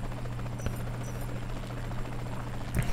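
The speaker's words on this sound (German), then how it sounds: "Und dieser merkwürdige Hubschrauber über mir, der geht mir irgendwie total auf den Sack." A helicopter hovers overhead in the video game Saints Row The Third, a steady close rotor drone running the whole time with a faint background hum and a brief knock near the end.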